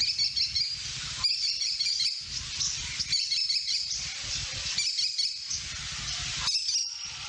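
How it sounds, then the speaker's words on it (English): An American Kestrel gives its shrill, rapidly repeated call in a spring gulch, sounding in bursts that come back again and again, clear over faint background noise. "the American Kestrel sounds pretty much the same anywhere I've heard it"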